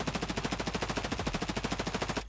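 Rapid automatic gunfire from a lightly modded starter rifle build in Escape From Tarkov, a steady stream of about twenty evenly spaced loud shots that stops abruptly at the end.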